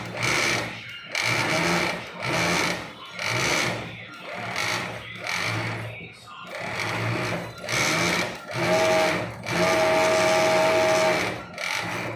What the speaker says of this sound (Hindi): इसके लिए अब मैं 5 थ्रेड पे फिर से जाता हूँ।